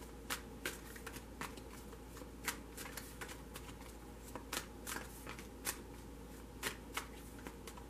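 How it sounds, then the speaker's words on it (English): Soft rapid riffling and flicking of a tarot card deck being shuffled, a steady run of light card slaps close to the microphone, quiet and alone without speech. "I have pre-shuffled this deck for you, so I'm only going to shuffle for a moment"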